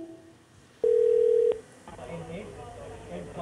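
Steady electronic phone-line tone while a call is placed on hold, one loud flat beep lasting under a second, followed by faint background murmur and a voice speaking.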